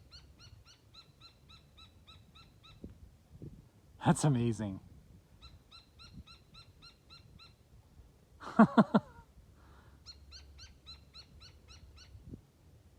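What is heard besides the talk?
noisy bird calling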